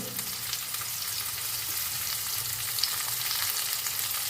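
Ginger and onion frying in a hot pan, giving a steady, dense sizzle that runs unbroken throughout while being stirred, close and fairly loud with no talking.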